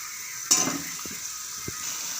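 Chicken coated in yoghurt stirred in a pot for chicken biryani: a soft sizzle runs throughout, broken by a sharp spoon scrape near the start and two brief wet knocks against the pot later on.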